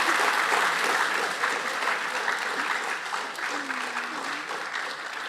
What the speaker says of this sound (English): Can we just give another big round of applause for Morgan for coming today?